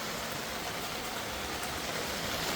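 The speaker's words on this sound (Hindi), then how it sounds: "सो मस्त बारिश हो रही है।" Heavy monsoon rain pours steadily onto a balcony lined with flowerpots on a foggy day, a dense, even hiss that continues without a break from start to finish.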